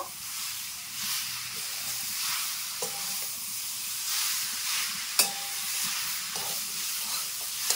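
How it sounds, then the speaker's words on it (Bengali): Jaggery and grated coconut being stirred together in a hot pan, giving a steady hissing sizzle with a few sharp spoon knocks and scrapes scattered throughout. "এরপর গুড় আর নারকেল ভালো করে কিন্তু মিশিয়ে নেব।"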